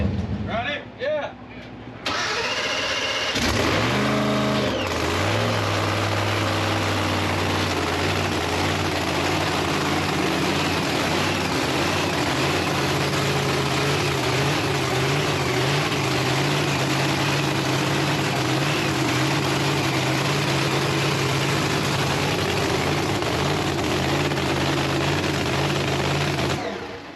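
A no-prep drag race car's engine cranks and fires, then settles into a loud, steady, throbbing idle that runs on for the rest of the clip, with people talking faintly underneath.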